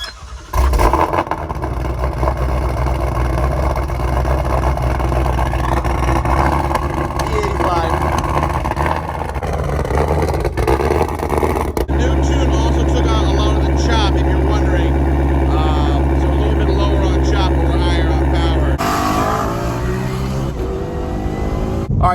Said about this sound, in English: So get a cold start.